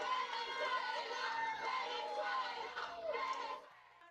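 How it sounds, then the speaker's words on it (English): Crowds celebrating in city streets during a news report: a dense mix of many excited voices, shouts and cheering at moderate distance, fading out near the end. "Crowds gathered in the streets."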